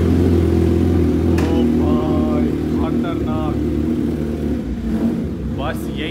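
A Suzuki Hayabusa motorcycle fitted with a loud modified exhaust idles with a deep, steady engine rumble close by, with a few brief throttle rises, while people talk over it.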